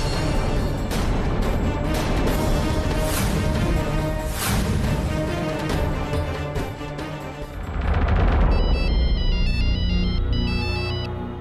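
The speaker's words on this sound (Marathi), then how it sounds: "अशोक, शमिका फोन का नाही उचलत आहे?" A telephone rings loudly in a dramatic indoor scene from a Marathi TV serial, a repeating electronic ringtone over a busy, tense background, with the tone growing clearer and higher toward the end; no one speaks over it.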